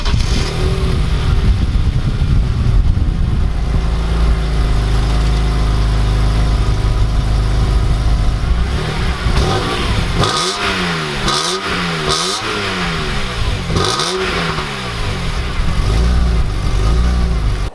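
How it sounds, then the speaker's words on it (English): A broken BMW E46 M3 project car, with a raspy exhaust and strong induction noise, idles steadily up close, then its engine is blipped through several quick, sharp revs that rise and fall. "this engine is truly remarkable in how it sounds and the way it revs"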